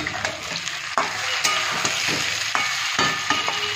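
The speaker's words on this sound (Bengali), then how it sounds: "একটু নাড়াচাড়া 2 মিনিটের মতন করে নেব" Tomatoes frying in a pan for crab jhal, stirred with a utensil: continuous sizzle with repeated scraping knocks of the spatula, close and loud, no voices.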